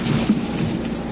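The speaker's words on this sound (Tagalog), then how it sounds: "ganito pa rin kalakas ang ulan at hangin dito sa Camarines Norte" Heavy rain and strong wind from Super Typhoon Pepito in Camarines Norte, a dense, loud roar of downpour and gusts, steady and unbroken throughout.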